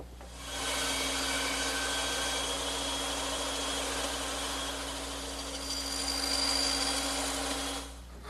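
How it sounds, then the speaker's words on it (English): A bandsaw cuts angled tenons in wood, running as a steady, loud whine with a constant low hum that holds for several seconds before tapering off. "And I'll make those cuts on my bandsaw."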